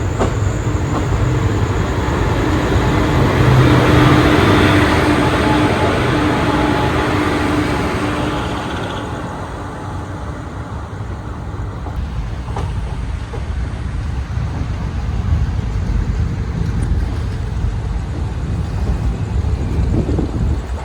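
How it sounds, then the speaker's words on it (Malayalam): The Palaruvi Express rolls along after leaving Thoothukudi, a loud continuous rumble of wheels and carriages with a rushing wash of wind that eases slightly partway through, and nobody speaks. "നമ്മുടെ പാലരുവി തൂത്തുക്കുടിയിൽ നിന്ന് പുറപ്പെട്ടിരിക്കുകയാണ്"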